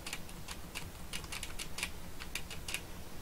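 Crisp clicking of computer keyboard keys, including spacebar presses, during a 2D game tutorial, a brisk irregular series of light taps heard close and quiet with no voice.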